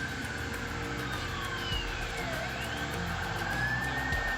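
A police siren wails in rising and falling sweeps during a night-time chase of a fleeing car, loud and close over a steady roar of engine and road noise.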